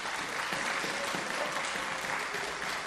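A concert audience welcomes a geomungo player from the KBS traditional Korean music orchestra with full, sustained applause at an even level.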